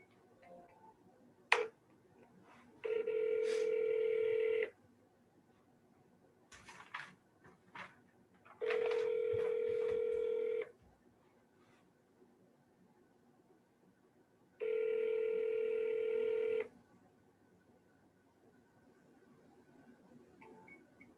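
A telephone call to a seller: soft dialing clicks, then three long ringback tones, each about two seconds, spaced a few seconds apart with quiet line hiss between. The rings sound steady and clear, and nobody speaks.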